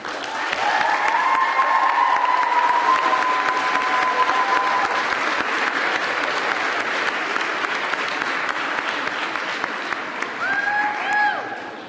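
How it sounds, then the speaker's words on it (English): A graduation crowd of parents and students applauds the rising faculty with sustained, dense clapping and some cheering that fills the whole stretch, with brief whistles or voices rising over it near the start and end. "give you a very well-deserving round of applause"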